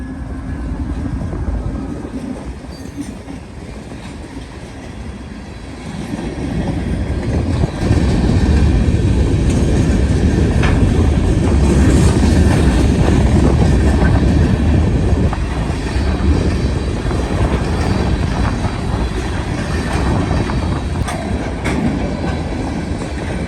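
Norfolk Southern freight train with a GP38-2 locomotive trailing third passes in northern Ohio, a loud rolling rumble that builds after a quieter start, with wheel clatter continuing steadily as cars go by.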